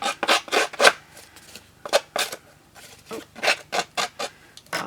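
A paper card edge is roughened and torn by hand during card making, giving a run of short, dry rasping scrapes and rips in quick irregular bursts, close and fairly crisp, with brief pauses between strokes.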